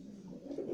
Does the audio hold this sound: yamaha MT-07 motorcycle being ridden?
no